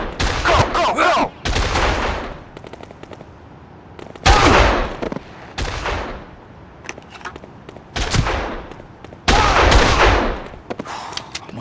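Sniper gunfire in the video game Made Man, loud sharp shots in irregular clusters with brief echoing tails between bursts, close and dominant.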